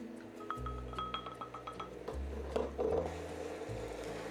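A spoon stirs curry powder into ginger, garlic and chili in a pan, giving soft scraping and light clinking strokes, close and quiet with a low hum underneath and no talk.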